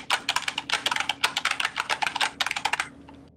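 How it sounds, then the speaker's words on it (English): Fast computer keyboard typing during a Garry's Mod game stream, a dense run of crisp key clicks close to the microphone with no talk, stopping abruptly just before the end. "Oh no, don't tell me you can hear the keyboard."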